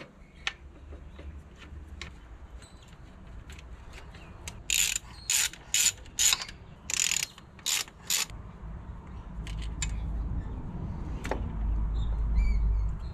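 Pipe fittings being undone on the uppipe of a turbo Subaru Forester: a run of sharp ratchet clicks in short bursts, close and fairly loud, followed by low rumbling handling noise.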